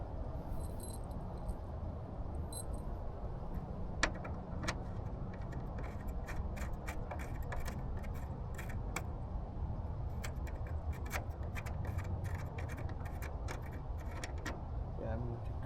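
A handful of metal roof screws for a Blazer jingle and clink in a hand, a steady patter of small metallic ticks over a low background rumble.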